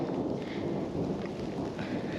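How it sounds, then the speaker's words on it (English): Thunder rolls in a low, sustained rumble during a rainstorm, with a steady hiss of rain falling on surfaces underneath, moderately quiet and heard from a distance without any talking. "Had some pretty good lightning and thunder roll over us"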